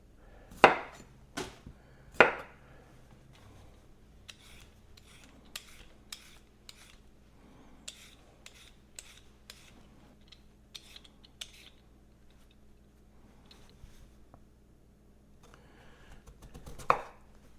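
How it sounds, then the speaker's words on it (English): Carrots being peeled and cut for a shepherd's pie: a few sharp knife chops on a board up close, separated by quieter scraping peeler strokes in an otherwise quiet kitchen. "Next step is to peel and cut the carrots."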